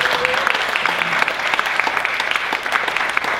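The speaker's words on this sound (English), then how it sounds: "Give another round of applause for David." An audience claps for a guest in a lively, continuous round of applause, close and loud, with scattered sharper claps standing out through the whole stretch.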